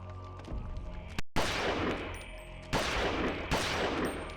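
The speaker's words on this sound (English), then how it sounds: "I'm gonna shoot it in the face." Loud gunshots from the Eternal Darkness video game, four heavy booming blasts spaced about a second apart, each trailing into a long ringing decay with no talk over them.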